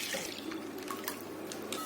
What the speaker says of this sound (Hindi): अब मैं 1 लीटर दूध डाल देती हूँ।